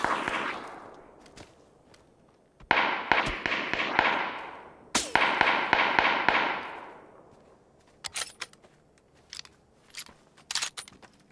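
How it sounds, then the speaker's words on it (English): Gunfire from the shooter game Escape from Tarkov: two sustained bursts of rapid automatic fire, each lasting a couple of seconds, followed by scattered single sharp shots and clicks. Nobody speaks. "How about this guy who's shooting?"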